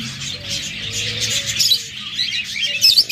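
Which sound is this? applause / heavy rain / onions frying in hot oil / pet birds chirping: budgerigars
pet birds chirping: budgerigars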